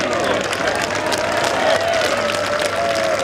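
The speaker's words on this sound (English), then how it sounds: "You hear the crowd willing it down the slope." A golf gallery at the 2022 Volvo Car Scandinavian Mixed tournament, round 3, cheering and calling out as a ball rolls down a slope, a loud sustained crowd roar with rising voices and some clapping.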